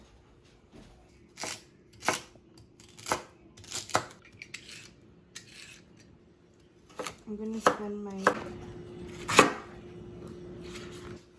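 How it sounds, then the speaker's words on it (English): Sharp knife chops on a cutting board come in spaced single strikes, then a quicker cluster, with a brief spoken phrase and kitchen clatter. "there is quite a bit of chopping involved in this recipe"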